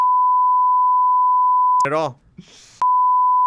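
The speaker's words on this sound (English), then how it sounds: "I'm gonna beep that out of this show." A loud, steady sine-tone censor beep runs continuously, briefly broken by a short burst of speech before the beep resumes.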